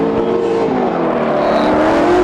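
Drift cars in a tandem competition at Drift Colorado roar continuously at high revs, a steady loud engine drone with shifting pitch and no pauses.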